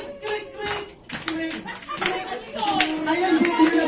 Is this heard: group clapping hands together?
yes